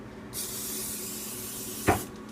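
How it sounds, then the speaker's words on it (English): A steady hiss of cooking oil spray lasting under two seconds, ending with a small click, close by. "you want to take your oil and spray it"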